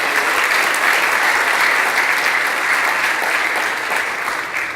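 Warm, sustained applause from a room full of attendees at a farm-to-school food panel event, dense even clapping that fades slightly toward the end.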